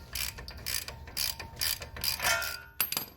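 Socket ratchet clicking in quick bursts while loosening a brake caliper bolt on a Jeep JKU, close and fairly loud with a metallic clink near the end.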